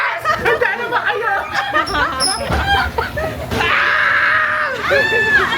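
Riders scream loudly on a roller coaster at Sky Ranch in Tagaytay, with overlapping shrieks, laughter and chatter from a crowd of close voices, rising to sustained high screams toward the end.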